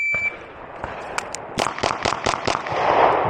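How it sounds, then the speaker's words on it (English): Rapid gunshots from a Beretta PX4 Storm Compact pistol during speed shooting, six sharp reports in a quick string, each a bit over a fifth of a second apart, with one isolated shot before them. "we're just going to go ahead and do a little bit of speed shooting"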